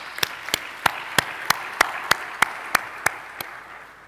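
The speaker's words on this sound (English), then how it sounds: "Let's give them a good round of applause as well." A graduation audience's applause settles into slow, even claps, about a dozen distinct sharp hits spaced evenly and fading slightly at the end.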